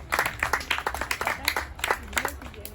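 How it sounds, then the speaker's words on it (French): Applause for women representatives at an NGO foundation gathering in Africa, a crowd clapping in an irregular patter of many hands for a few seconds, with voices murmuring underneath. "Est-ce qu'on peut applaudir encore pour elles?"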